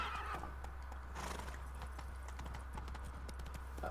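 A horse in The Witcher 3 gallops with rapid, steady clip-clop hoofbeats and lets out a clear neigh, close and loud over a low constant hum.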